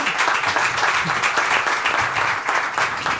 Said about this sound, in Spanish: un aplauso fortísimo